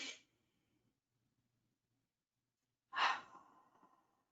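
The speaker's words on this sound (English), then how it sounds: "I invite you to take deep breaths with your nose, hold it, and exhale with your mouth open" Deep Ujjayi pranayama breathing, with the tail of one breath followed by a long pause and then a strong breathy exhale through an open mouth, close and clear in a quiet room.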